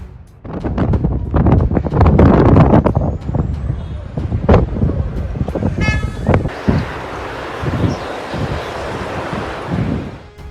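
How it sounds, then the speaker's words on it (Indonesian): Strong wind from a giant sandstorm sweeping across Algeria, first heard under voices and sharp knocks, then a steady roaring broadband rush that fills the last few seconds. "Badai pasir raksasa sapu Algeria."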